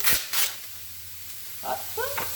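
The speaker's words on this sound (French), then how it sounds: "On remue. On va y rajouter notre viande hachée." Garlic and minced meat sizzling in a pan while a spoon stirs, with a couple of soft scraping strokes at the start, then a quieter hiss and a few short utensil clinks near the end.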